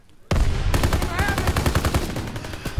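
Rapid, loud automatic gunfire in the Call of Duty WW2 campaign, a dense run of sharp shots with a brief voice-like whine partway through.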